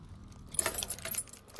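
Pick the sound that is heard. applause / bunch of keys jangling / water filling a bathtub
bunch of keys jangling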